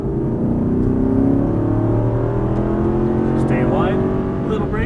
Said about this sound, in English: Staying wide, little brake, off the brake, turn in, back on the throttle, hard on the throttle